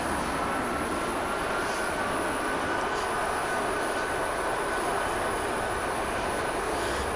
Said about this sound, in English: Engine is spinning up.